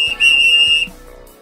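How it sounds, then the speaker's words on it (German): A whistle is blown once in a loud, steady, shrill blast lasting under a second, with soft background music underneath. "Und eine Pfeife."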